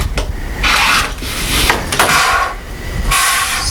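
A rotary cutter or blade slices along the edge of fabric against a ruler in several quick, rasping strokes, each a short scraping rush with brief pauses between.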